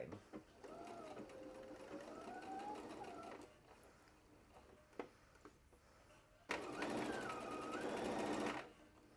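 Sewing machine running in two steady stretches while stitching fabric for an aviator-style over-ear winter hat, a close mechanical whir with a brief pause between runs.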